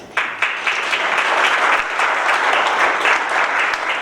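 Sustained audience applause fills a town hall event, a dense, loud wash of many hands clapping together with no voices over it.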